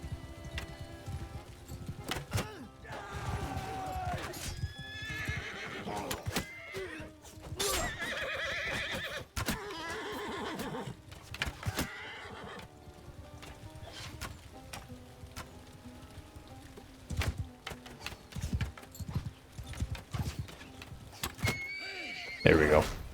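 Horses neigh and whinny again and again amid battle clamour in a medieval strategy video game, mixed with hoofbeats, clashes and a voice talking over it.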